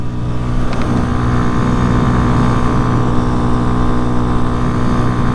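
A Chinese street-legal motorcycle engine runs hard in fifth gear at about 50 mph, a loud, steady drone with continuous wind and road roar throughout, no talking.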